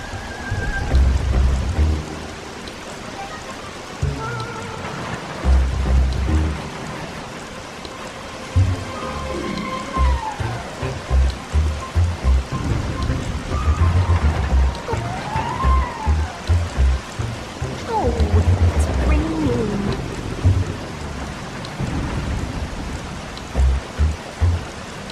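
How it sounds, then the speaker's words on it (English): Rain falls in the Bee Movie video game, a steady wash of drops heard throughout, with repeated low thumps and scattered game effects layered over it. "Oh no, not the rain."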